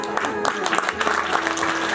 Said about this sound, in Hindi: ताली से इनका बहुत बहुत धन्यवाद